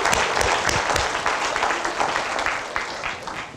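A room full of people at a city State of the City address in Watsonville, California, breaks into applause, dense clapping that starts strong and gradually thins out over a few seconds.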